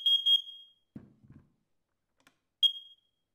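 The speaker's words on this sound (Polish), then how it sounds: "chwilka minęła i się odezwał czujnik CO2" A carbon monoxide detector gives a sharp, high electronic beep, falls silent, then beeps once more. A faint low knock is heard in the quiet between the beeps.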